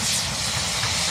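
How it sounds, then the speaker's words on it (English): A steam train in a Lancashire valley sends out a brief, loud rush of hissing steam with a low rumble beneath it, heard close and without talking. "it's a steam train heading through the valley"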